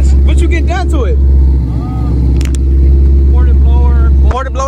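A deep, loud Cadillac CTS-V engine with headers exhaust rumbles and idles nearby with a throaty exhaust, while several people talk over it at a cars and coffee meet.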